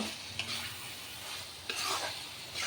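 Potatoes and spices frying in a pan for a pointed gourd and potato curry, a faint steady sizzle with a couple of soft scraping stirs, quiet and close with no talk.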